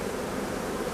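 Honeybees at an opened hive make a dense, steady buzzing hum, close and continuous, with no voices over it.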